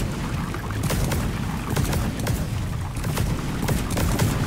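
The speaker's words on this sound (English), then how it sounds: "very strange looking plants that are very bright orange and do have a tendency to explode whenever you damage them" Bright orange exploding plants bursting in the Fungus Bogs of Deep Rock Galactic, a rapid crackle of bangs over a constant loud din of in-game noise.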